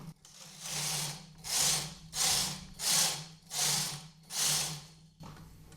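Domestic knitting machine carriage drawn back and forth across the needle bed, six rhythmic whooshing, ratcheting passes about a second each with brief pauses between, close and steady with no talking.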